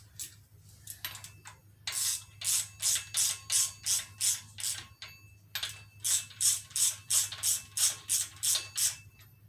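Ratchet wrench snugging Jeep 4.0 flywheel bolts in a crisscross pattern during an engine rebuild: close, rhythmic bursts of ratchet clicks in regular strokes, two runs separated by a brief pause, over a low steady hum, no speech.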